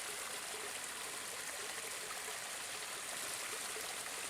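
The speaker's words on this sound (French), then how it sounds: "Au bout de ces canaux, il y a la rivière." The Lusoni river flows at the end of a set of canals, a soft, steady rushing and trickling stream heard faintly at a distance with no voices.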